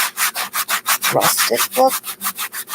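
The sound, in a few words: sanding a Dollar Tree wooden sign with a sanding block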